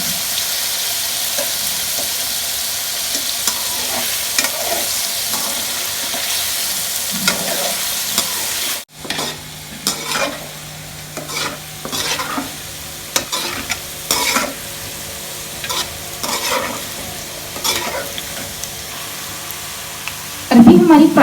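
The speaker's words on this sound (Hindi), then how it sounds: "अब हम इसको अच्छे तरीके से फ्राई कर लेते हैं।" Arvi (taro) pieces frying for arvi gosht, with a steady sizzle in hot oil and repeated spoon scrapes and stirring knocks against the pan, close and fairly loud; a short break partway through, then continued stirring.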